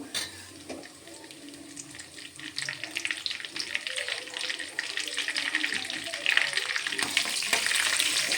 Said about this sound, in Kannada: ಗೋಲ್ಡನ್ ಬ್ರೌನ್ ಬರೋ ತನಕ ಈ ಥರ ಕೈ ಆಡಿಸ್ಕೊಬೇಕು.